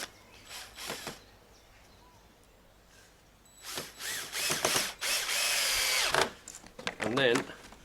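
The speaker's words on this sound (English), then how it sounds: "Drill some holes through the bottom one" A power drill boring holes through the bottom wooden piece of a homemade lobster or crab pot, heard in several short whirring bursts that rise and stop, with a long, loud stretch near the end.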